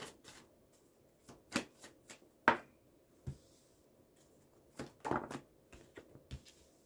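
Tarot cards being drawn and handled, a series of short papery snaps and soft slides spread irregularly across a quiet room.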